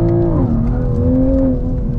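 A lowered Toyota Supra on street tires accelerates on a race track, its engine note holding a steady, loud drone with harmonics that rise and shift slightly as it pulls, continuous throughout.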